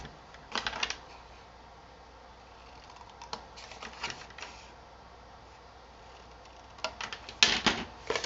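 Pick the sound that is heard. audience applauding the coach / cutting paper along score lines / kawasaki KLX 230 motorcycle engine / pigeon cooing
cutting paper along score lines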